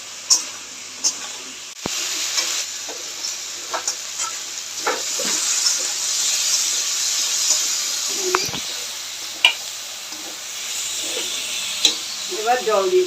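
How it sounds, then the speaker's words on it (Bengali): Pointed gourd sautéing in a pan for a vegetarian potato and soybean curry: a steady, close sizzle with repeated scraping stirs and clatter throughout, no voice. "এবার পটলগুলো দিয়ে দেবো। এবার ভালো করে কষাবো এটা।"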